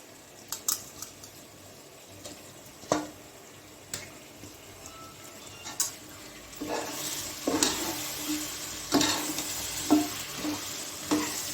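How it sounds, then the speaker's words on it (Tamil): Chicken leg pieces sizzling and being stirred in a pan for chicken biryani, quiet frying at first with occasional clinks, then louder sizzling and wet stirring toward the end. "சிக்கன் போட்டு கொஞ்சம் நேரம் வதங்கட்டும்"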